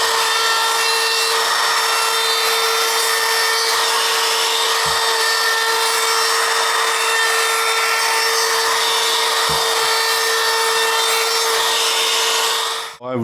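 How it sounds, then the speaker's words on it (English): A router cutting a small round-over on a plywood edge in a woodturning shop, a loud, steady, high-pitched whine with grinding noise that holds for the whole stretch and cuts off at the end. "I think maybe a small round over with the router, and this should be okay."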